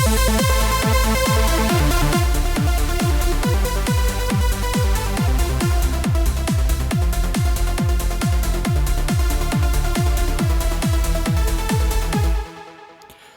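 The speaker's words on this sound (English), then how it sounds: "they don't have any release and they have the sustain all the way up and it sounds like this" A sustained synth lead plays a steady stream of repeated notes over a pulsing low bass, each note holding at full level, then cutting off abruptly at the end.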